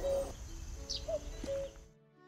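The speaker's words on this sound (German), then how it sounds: "Ein Kuckuck." Cuckoo calling within the adventure game The Night of the Rabbit, a few short tonal notes spaced apart over a low game ambience, moderately faint and without speech.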